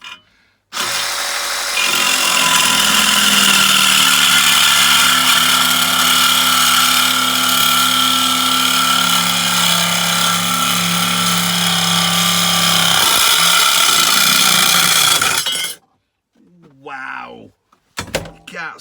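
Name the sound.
Evolution reciprocating saw cutting stainless steel in a vise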